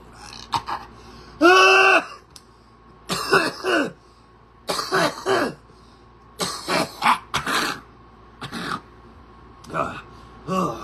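Repeated harsh coughs and throat clearing in short bursts with gasps between, loud and close, separated by brief pauses.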